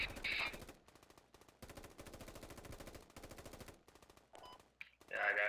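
Rapid automatic gunfire in the Squad tactical shooter, on the Kohat River Valley map, with bursts of machine-gun fire and louder nearby shots at the start and end around steadier distant rattling.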